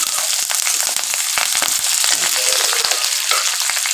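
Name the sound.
whole garlic and curry leaves frying for khatta dal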